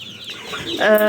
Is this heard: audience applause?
no